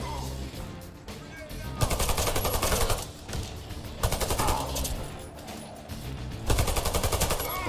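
AK Alpha assault rifle fire in Warface, several loud rapid bursts of automatic shots separated by short pauses, with someone talking between and over the firing.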